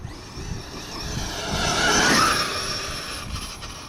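Losi 5ive B brushless RC car, running an 18-tooth pinion and a center differential filled with 1 million wt oil, drives with a steady motor and drivetrain whir that swells to a louder pass near the middle, then fades; no talking.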